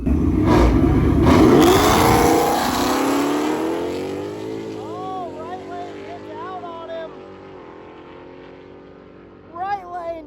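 Drag cars launching on a no-prep track, one an all-wheel-drive Hoonigan car, with a loud engine roar at the start that fades as they pull away, then a brief rev near the end.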